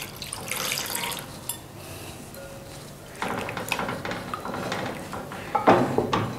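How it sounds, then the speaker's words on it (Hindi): Water runs and splashes as about two cups are poured into a pot of beef while cooking, a steady rushing flow with clinks of the pot and a louder burst near the end, no talking. "थोड़ा पानी डाल दे इसमें, तकरीबन बिस्मिल्लाह 2 कप पानी डाल दे"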